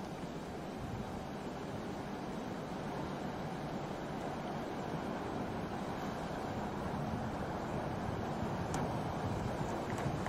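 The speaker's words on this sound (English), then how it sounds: "Послушайте все вместе. Этот ветер." Wind sweeping outdoors through a forest, a broad steady rushing roar with rumbling gusts at fairly even loudness throughout, heard alone without voices.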